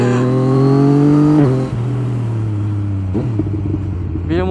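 A Yamaha MT-09 V2 motorcycle accelerates hard, its engine note climbing steadily through the gears with a brief dip at each shift. The exhaust is loud and close, like from a rider's camera, with wind rush and no speech.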